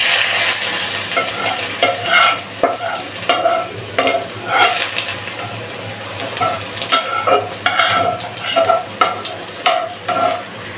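Leafy greens sizzle and fry in hot oil over a cumin and dried red chilli tempering, with steady crackling broken by repeated stirring scrapes and clatters from a spatula, close and fairly loud with no voices.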